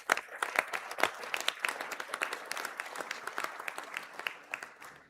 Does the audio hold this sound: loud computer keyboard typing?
no